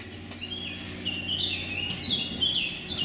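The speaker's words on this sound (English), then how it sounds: "You can hear the birds chirping." Birds chirping outdoors on a nice day, several thin high calls and trills scattered across a few seconds, moderately faint over a low steady background hum.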